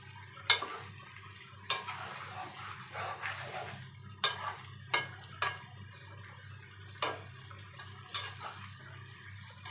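Rohu fish head curry with potato is stirred in a pan on a quiet stove: sharp spatula knocks and scrapes come about every second or two, close and distinct, with a faint low hum in between.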